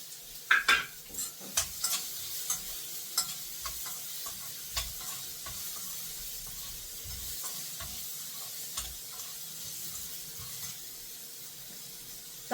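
Onion is stirred in a small tempering pan while it fries. A soft, continuous sizzle runs under repeated scraping and clinking stirs near the mic, with no talking.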